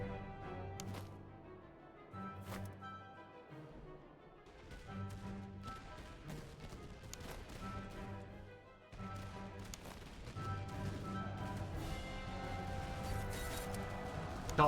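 Musket volleys crack in a firefight in Master of Command, scattered gunshots at moderate distance over a droning musical score, with no voices.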